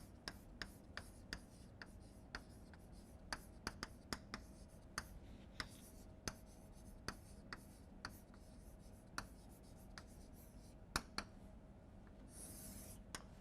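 Pen or chalk strokes from a lecturer writing a forecasting model by hand, a series of sharp taps and scratches in an irregular rhythm over a quiet room hiss.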